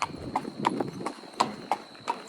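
Horse hooves clop across a bridge with a steel framework on a trail ride at Hidden Mesa open space in Douglas County, Colorado, giving about seven sharp, ringing strikes in an uneven walking rhythm, close and fairly loud.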